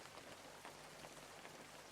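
Steady rain on a rainy day in Bicol patters softly and continuously, a dense, even hiss of drops heard from inside a vehicle, with a faint low hum underneath and no talking.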